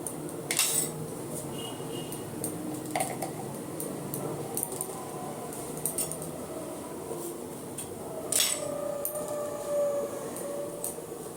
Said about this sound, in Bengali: টমেটো কাটা হয়ে গেল